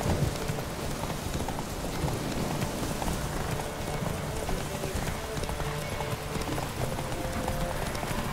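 Horses gallop in a race in The Witcher 3, their hooves pounding a fast, dense clip-clop that runs steadily and loud throughout, mixed with a rushing, rain-like wash.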